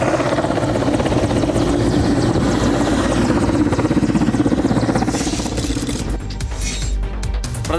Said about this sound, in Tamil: திருச்சியிலிருந்து ராணுவ ஹெலிகாப்டர் வரவழைக்கப்பட்டு தரையிறக்கி பாதுகாப்பு சோதனை நடத்தப்பட்டது